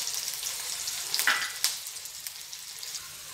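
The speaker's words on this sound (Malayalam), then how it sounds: "ചെറിയ ഉള്ളി രണ്ട് ചെറിയ ഉള്ളി അരിഞ്ഞ് വെച്ചതാണ് അത് നന്നായിട്ടൊന്ന് വറുത്തെടുക്കാം" Chopped small onions fry in a pan for a shrimp gravy, giving a soft, steady sizzle with a few faint stirring clicks, fairly quiet and alone.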